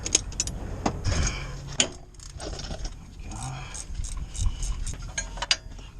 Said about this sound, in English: Let's see if I can get my 15mm wrench in there.